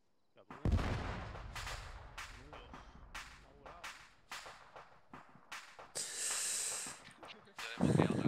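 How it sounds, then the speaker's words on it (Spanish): A burst of sharp, cracking blasts and whip-like bangs in quick succession from a controlled explosion in a Black Desert video game campaign, with a hissing roar near the end. "Explosión controlada en 3 segundos."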